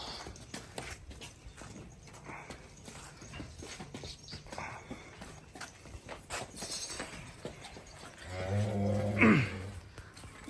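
Jersey cows and a heifer in a farmyard, with a low moo rising near the end over a steady background of rustling and hoof-like knocks; no one talks.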